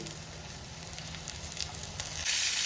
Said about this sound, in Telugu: కొంచెం దగ్గర ఉండి జాగ్రత్తగా వేయించుకోండి ఇలా బాగా మగ్గాలండి నూనెలో